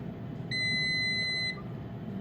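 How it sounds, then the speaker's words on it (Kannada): An air fryer gives a single clean electronic beep lasting about a second when cooking is done, over a faint background hum. "ಬೀಪ್ ಬಂದು ಅದೇ ಆಟೋಮ್ಯಾಟಿಕ್ಕಾಗಿ ಆಫ್ ಆಗೋಗುತ್ತೆ"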